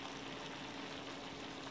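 Food sizzles steadily in a pan: boiled beef with eggplant, beans, peas and onions, giving a soft continuous frying hiss at low, even volume throughout.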